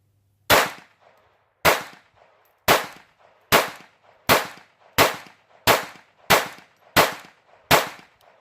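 Ten sharp gunshots from a Walther P22 pistol firing Mini-Mag rounds, evenly spaced about a second apart, loud and close, each with a short decaying echo and nothing else in between.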